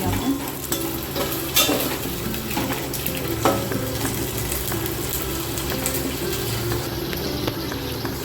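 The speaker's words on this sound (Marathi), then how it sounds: "आपण 1 चमचा तेल ॲड करू, चांगले तळून घ्यायचे आपल्याला व्हेजिटेबल।" Vegetables frying in a spoonful of oil in a pan for soybean veg biryani, a steady close sizzle broken by stirring scrapes and occasional clinks.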